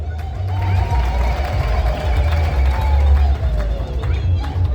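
A large crowd in Uganda roars, claps and cheers continuously at an official opening, a dense wash of voices at a distance with a low rumble underneath and no distinct individual words.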